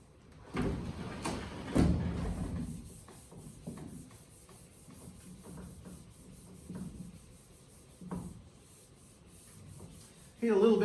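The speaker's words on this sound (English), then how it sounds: "let me do some erasing here." A board is erased during a lecture, with several loud scrubbing rubs early on and then lighter, intermittent swipes in a quiet room, and a sudden louder noise at the very end.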